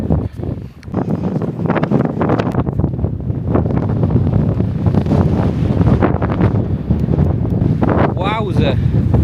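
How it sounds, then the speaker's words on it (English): Strong wind buffets the microphone on an exposed hilltop at Magpie Mine, a steady loud roar with gusty surges throughout, and a brief higher whistling tone near the end. "It's a little bit windy up here."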